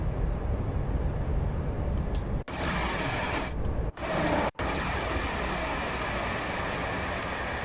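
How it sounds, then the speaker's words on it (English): In the Train Sim World 5 game, a London Underground Bakerloo line train rumbles through a tunnel with a steady loud roar, broken by a few sharp gaps as it passes. "Oh, there's a Bakerloo line train coming through the tunnel."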